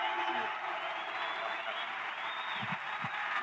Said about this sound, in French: Mesdames et messieurs, on peut l'applaudir encore une fois, s'il vous plaît, Nassourdine Imavov.